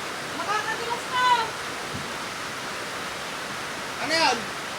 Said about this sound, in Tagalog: Hoy, ang lakas ng tulo dito.